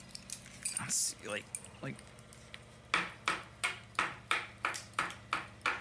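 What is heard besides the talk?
construction site clanking across the street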